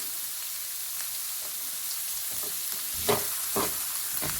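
Finely chopped onion frying in a pan for an eggplant and potato masala, a soft continuous sizzle with occasional spatula stirs and a couple of louder scrapes toward the end.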